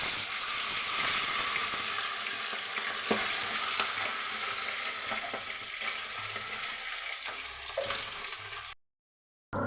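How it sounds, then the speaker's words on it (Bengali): Pabda fish frying in hot oil, a continuous loud sizzle and bubbling hiss with occasional crackles and pops, steady for several seconds before a brief dropout. "এখন আমি মাছ ভাজা বসাবো।"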